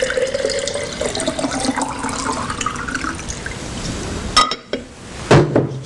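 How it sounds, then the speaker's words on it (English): Water is poured into a glass quart jar, with a continuous running splash that rises in pitch as the jar fills, followed by a few sharp knocks and drips near the end. "And now we're going to pour some water in."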